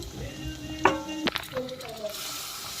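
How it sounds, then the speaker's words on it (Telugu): Vegetables dropped into hot oil for a broccoli and mushroom biryani sizzle steadily, with a brief clatter of stirring partway through, close and moderately loud. "ఇప్పుడు మనం ఆయిల్లో వెజిటబుల్స్ అన్నీ వేసేసుకుంటున్నామండి"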